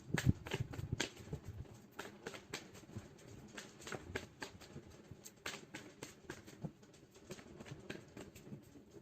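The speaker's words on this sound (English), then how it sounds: "let's pull some cards from universe where this connection is headed on and the outcome" Tarot cards are shuffled close up, a steady run of soft, quick riffling flutters and taps repeating throughout at low volume with no voices.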